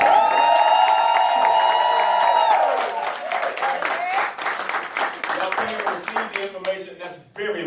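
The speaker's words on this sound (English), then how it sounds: "Give our guests another round of applause." An audience gives a round of applause and cheers for guests at a PlanNetMarketing presentation, loud and sustained at first and then tapering off. A voice speaks over the clapping, with some whoops.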